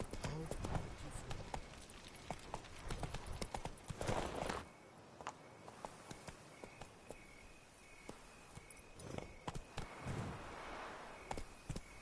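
Roach the horse from The Witcher 3 trots along, hooves clip-clopping in a steady rhythm over crickets and ambient game sounds, with a louder burst partway through.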